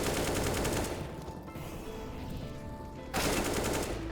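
Sustained automatic AK rifle fire in Counter-Strike, loud and dense, easing slightly midway before a fresh burst picks up.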